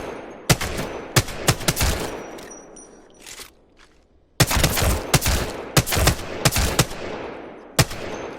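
Repeated bursts of automatic gunfire in the Apex Legends video game, loud and close, with sharp volleys separated by a short lull before another cluster of rapid shots.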